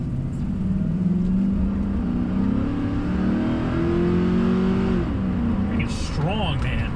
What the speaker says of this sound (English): But that exhaust leak, I can still hear it.